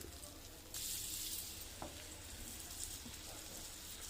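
Bread sizzling in butter in a pan, a soft, faint, steady frying hiss that swells after a moment, with a light clink or two.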